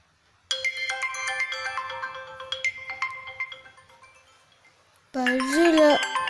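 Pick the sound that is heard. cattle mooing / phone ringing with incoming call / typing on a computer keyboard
phone ringing with incoming call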